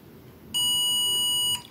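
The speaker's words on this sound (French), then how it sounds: "là vous avez un bip qui s'allume. Donc là, la minuterie s'arrête." A single sustained electronic beep from a kitchen scale's timer as it stops, about one second long, sharp and close, over a quiet background.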